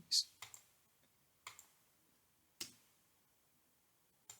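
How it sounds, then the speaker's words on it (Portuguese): A computer mouse gives a few sparse, crisp clicks at close range in a quiet room. "Clica aqui."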